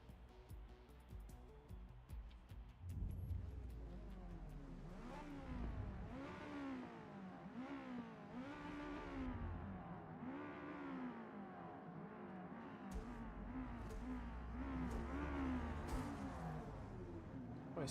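Lamborghini Espada engine revving in a racing video game, a steady droning rev from start to finish that rises and falls in repeated upshift sweeps, loud and continuous with faint talk underneath.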